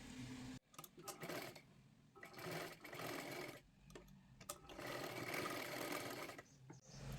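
Sewing machine stitching a boat neck blouse runs in quick mechanical bursts with short pauses between, close and steady.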